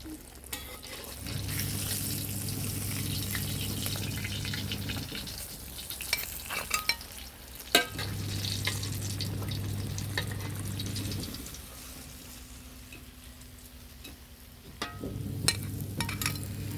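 Snakeskin gourami fish frying in a pan, a steady hiss of hot oil broken by stirring and scraping, with short gaps and a faint tap of water between bursts.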